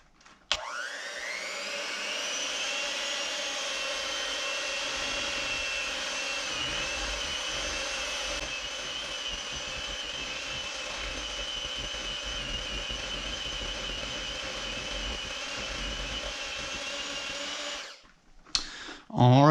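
An electric mixer whirs continuously for about seventeen seconds, beating one-ingredient eggnog ice cream until smooth, a steady motor drone that stops near the end.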